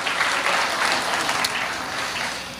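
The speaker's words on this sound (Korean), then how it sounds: "우리 격려의 박수 한번 하고 시작하도록 하겠습니다" A church congregation gives a short burst of encouraging applause, dense and steady clapping that eases slightly as it ends.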